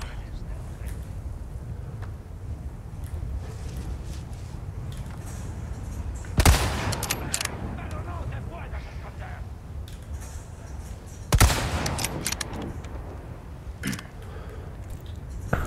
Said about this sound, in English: how about we just use this rifle that I just got?